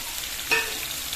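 Green chillies fry lightly in a pan, a steady soft sizzle with one brief brighter crackle partway through, close and alone with no talk.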